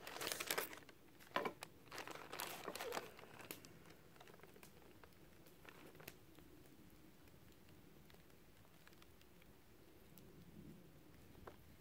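Rain beginning to fall at a bivouac camp, scattered close patters and crinkling taps on a surface, busier in the first few seconds and then thinning to occasional drops over a quiet background.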